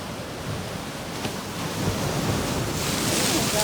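Large ocean waves rumble on a Bermuda beach, a deep, continuous roar that swells louder toward the end, with wind noise on the microphone.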